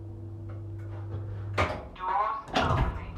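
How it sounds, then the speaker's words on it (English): Lift doors open in a town centre shopping building in Kidderminster, with a soft thud followed by a sliding rumble and clatter, after a steady electronic hum and under faint nearby voices. "Doors opening."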